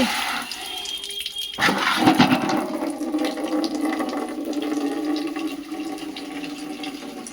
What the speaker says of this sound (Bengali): কি মোটা হয়ে জল পড়ে যাচ্ছে।